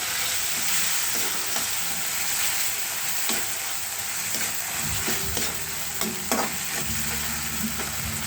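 Corned beef sizzling as it is sautéed in a pan, a loud continuous frying hiss with spatula scrapes and knocks against the pan, steady throughout and without speech.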